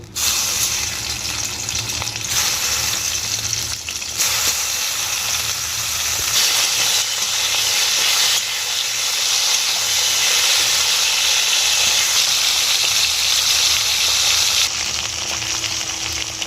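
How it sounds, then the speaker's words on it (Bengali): A hilsa fish head frying in oil in a home kitchen kadai, giving a loud, continuous close-up hiss and crackle that holds steady for the whole stretch with no talking. "ওই তেলের মধ্যেই আমি মাছের মাথাটা ভেজে নেব"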